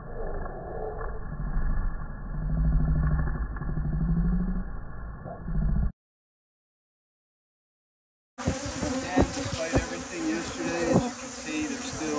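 Honey bees from a troubled, queenless hive buzz in a dense, continuous drone up close, first muffled, then after a silent gap a brighter, louder swarm hum with scattered clicks and knocks.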